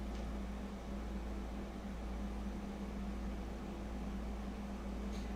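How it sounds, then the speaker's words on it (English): An air compressor powering an airbrush hums steadily throughout, a constant low droning motor tone with a fan-like hiss, faint and unchanging, with a brief soft click at each end and no talk. "with an air compressor we can do this"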